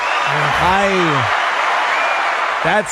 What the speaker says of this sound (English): That applause drop, it literally sounds like the movies when they open a door when there's a storm outside.